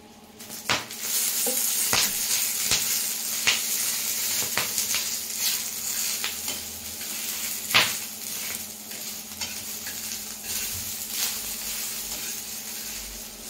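Green chillies roasting and frying in a little oil in a pan, a continuous close hiss with scattered sharp crackles and occasional stirring clicks, no voices.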